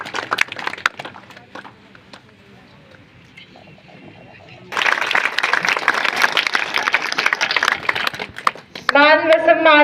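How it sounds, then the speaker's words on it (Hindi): A village crowd at a public rally claps to welcome a guest, a dense burst of applause swelling in after a stretch of quieter chatter and scattered noise, with voices talking before it and a voice rising at the end. "इनका भी जोरदार तालियों से स्वागत कीजिए"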